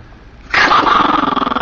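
A dog growls close up after a moment of quiet, a low rough rumble that pulses steadily and stays loud to the end.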